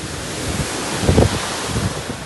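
A monsoon waterfall in Goa roars as fast water pours down, a loud steady broadband rush with wind buffeting the microphone and no voices.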